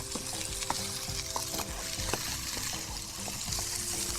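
Kabuli chana and boiled corn bhaji tossed in a hot pan, a steady close sizzle with light scraping and stirring clatter throughout, no voices.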